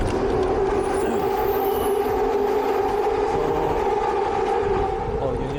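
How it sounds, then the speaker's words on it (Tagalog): A train passes directly overhead on an elevated track in Vancouver, heard from below as a loud, steady rumble with a metallic whine running through it. "So, yun yung train. Nakita niyo yung train. Ito, nasa ilalim tayo ng train."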